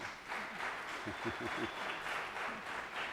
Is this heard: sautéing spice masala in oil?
no